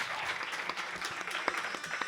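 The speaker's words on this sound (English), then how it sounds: "round of applause" A short burst of audience applause at a live music and talk event, dense clapping from a crowd filling the whole moment, fairly loud and close with a few sharper individual claps standing out.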